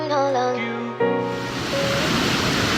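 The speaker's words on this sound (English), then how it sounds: "So today we're here at the waterfalls just north of Nha Trang." A waterfall just north of Nha Trang, Vietnam, sends up a steady, broad rushing roar that takes over after a brief tonal sound at the start and continues loud and unbroken.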